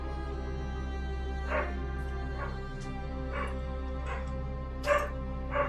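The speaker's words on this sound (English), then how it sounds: "I apologize, my dog is barking." A dog barks indoors, five sharp separate yips spaced about a second apart over a steady low hum, moderately close and fairly loud.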